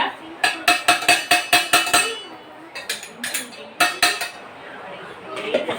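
A metal ladle mixing a homemade ground mixture in a vessel, then pouring it into a container, heard as a close run of rhythmic metallic clinks and taps, a short pause, then further scattered clanks.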